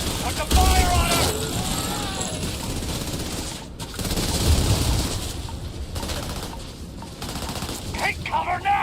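Heavy, sustained gunfire crackles through a firefight in the Starfield video game. Automatic bursts run almost continuously at close range, with shouted voices mixed into the combat.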